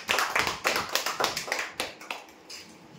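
Applause for a rolling-chair prize winner at a weekly lucky draw: a brief burst of close, uneven hand clapping from a small group that thins and fades toward the end.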